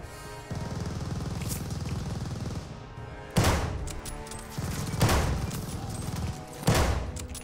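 Gunfire in the Call of Duty Vanguard video game bursts out loudly three times in quick rattling volleys, separated by stretches of steady background battle noise, with no speech.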